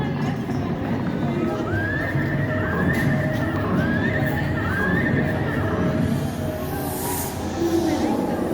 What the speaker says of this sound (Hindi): घोड़ों की आवाज़ आ रही है।